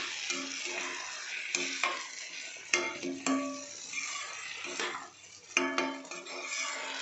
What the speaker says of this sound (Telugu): ఇది కొంచెం బాగా ఫ్రై చేసుకోవాలి.